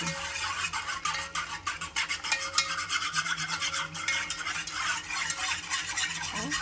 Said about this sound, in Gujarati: અને હવે એને હલાવી દઈશું.